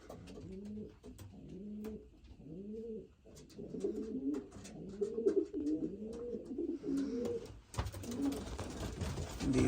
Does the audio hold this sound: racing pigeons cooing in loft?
yes